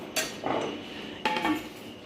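A spoon knocks against serving dishes as stingray cooked on banana leaf is plated, two distinct close clinks about a second apart with quiet between them.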